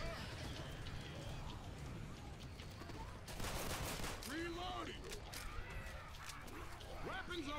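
Gunfire from the Left 4 Dead 2 custom campaign Dniepr, sharp bursts crackling through a busy game soundscape from about three seconds on, mixed with other game noises while people talk over it.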